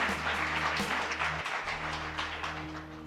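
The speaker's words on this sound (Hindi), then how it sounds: "सही उत्तर के लिए जबरदस्त तालियां साहब।" At a village Ramayana quiz contest, an audience applauds a correct answer. The clapping is soft and somewhat distant, a short steady patter with faint music or hum underneath.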